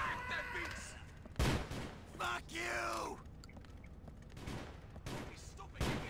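Several sharp pistol shots in the video game GTA Episodes from Liberty City, spread out between mechanical clicks and game noise, fairly close but moderately quiet.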